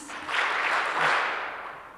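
A brief burst of audience clapping at a heritage system launch event swells quickly, holds for about a second, then tapers off, blending into a soft, even wash without distinct individual claps.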